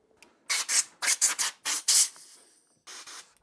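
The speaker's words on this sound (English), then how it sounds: "the process is yet to begin, and it involves a Dremel" A Dremel rotary tool cleaning MGB GT twin carburetor parts for a classic Mini 1380cc engine build: a run of short, abrasive rubbing bursts, each under half a second, close and fairly loud, with a brief pause before a final pass.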